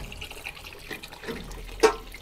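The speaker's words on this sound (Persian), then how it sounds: "شستن 600 تا سیخ کوبیده توی 15 دقیقه، اونم با 20 لیتر آب" A kebab skewer washing machine runs with water, giving a soft, steady splashing and trickling with a brief louder slosh near the end, nearby and without talk.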